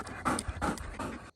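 A retriever dog pants hard and close after fetching doves on a hot Kansas opening-day dove hunt, giving a run of rapid breathy huffs that stop abruptly.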